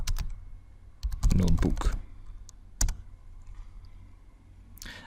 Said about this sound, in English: here you can open a command prompt, and then you type Jupyter